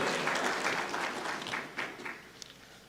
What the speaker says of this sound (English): We can do more clapping.